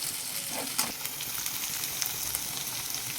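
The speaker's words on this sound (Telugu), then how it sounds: "పచ్చిమిర్చి, ఆనియన్ కూడా వేసేసుకుంటున్నాను. కలుపుకోవాలి." Green chilies and onion frying in a pan, a dense, steady sizzle with a few scraping stirs of a spoon near the start.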